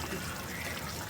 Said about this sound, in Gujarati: પછી આપણે આંબલીનું પાણી નાખીશું.